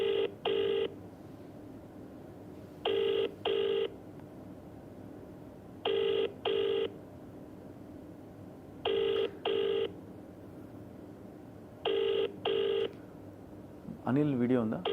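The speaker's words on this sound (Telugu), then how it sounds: "ఒక్కసారి రజనీకి కాల్ చేస్తున్నా నేను." A phone call is dialed from a news studio: five evenly spaced pairs of ring-back tones, about three seconds apart, sound clearly, and a voice begins to speak just at the end.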